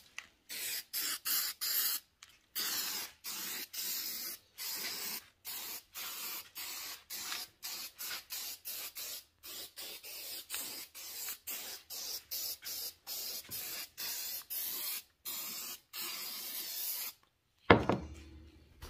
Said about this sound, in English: Some glossy finish. Spray that on there.